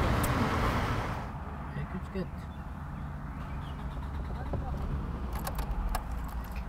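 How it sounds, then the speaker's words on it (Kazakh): A car engine rumbles as it is started and then idles steadily, with keys jangling nearby and people talking over the low engine noise. "Машина жандырып көрші?"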